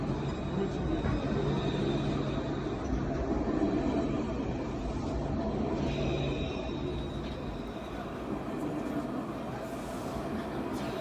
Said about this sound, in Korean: 트램이 다니는 아일랜드.